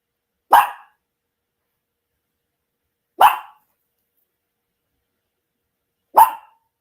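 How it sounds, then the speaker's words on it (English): A dog gives three single sharp barks spaced a few seconds apart, each close and loud against silence. "She barks when it rains, she barks when it thunders."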